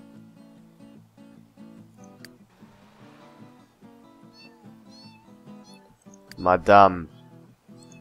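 A cat in The Sims 3 gives one loud, drawn-out meow near the end, rising over soft game music and someone talking throughout.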